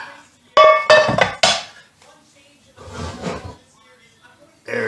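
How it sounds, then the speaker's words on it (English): A frying pan is pulled from a kitchen cupboard: a cupboard door clacks, then metal pans clatter and ring in several sharp bangs, followed by softer rummaging and a final knock, close and loud. "let's get the pan out"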